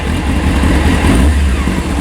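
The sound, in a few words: Honda Hornet 600 motorcycle engine revving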